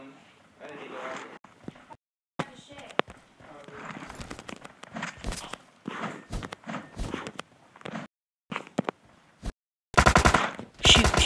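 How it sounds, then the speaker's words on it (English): Gunfire in PUBG Mobile aimed at the player, with bursts of rapid automatic shots and scattered single cracks mixed with footsteps, loudest near the end, while a person talks over it. "Oh, he's shooting at me."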